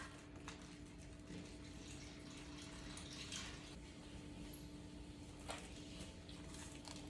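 Water runs steadily into a container for making ice, a faint continuous splashing and trickle with no voices.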